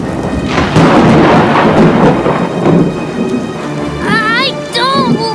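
Deep rumbling thunder rolls through heavy rain, loud and close, while a high squeaky voice chatters over the storm near the end.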